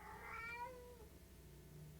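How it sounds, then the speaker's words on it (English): A cat lets out one drawn-out, wavering meow that rises and falls, moderately close but fairly quiet, then fades into low room noise. "Wow, that cat, she's singing tonight. I hope you can hear it."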